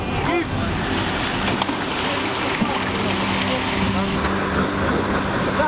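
Strong wind and breaking ocean waves while kitesurfing at night off the Azores, a loud continuous roar of gusts buffeting the microphone over surging surf, with no pauses.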